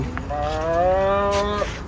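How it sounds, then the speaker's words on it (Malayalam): A single cow moos nearby at an animal market in Sharjah, one long, clear, drawn-out low call lasting over a second. "ഇവിടെ പശു"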